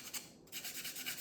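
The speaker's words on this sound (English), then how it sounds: "I'm gonna get my little piece of sandpaper, and in the direction of the grain, I'm just gonna lightly" A small piece of sandpaper lightly rubbing a wooden craft piece along the grain, a soft, steady close-up hiss in short strokes with a brief pause midway.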